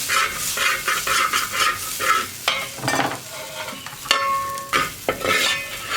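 Rice roasting in ghee inside a bronze uruli, stirred with repeated scraping strokes and metallic clinks over a continuous sizzle, close and fairly loud.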